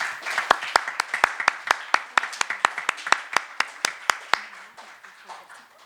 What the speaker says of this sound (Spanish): Les pido un fuerte aplauso para la maestra, por favor.